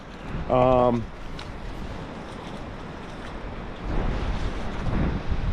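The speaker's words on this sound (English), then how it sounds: "the hurricane made landfall in Georgetown, which is just northeast of us. And we are pretty much in the eye of it right now" Hurricane Ian wind sweeping outdoors near Georgetown, with the eye of the storm passing overhead: a steady, broad rushing roar that swells stronger toward the end, with a brief voice-like tone near the start.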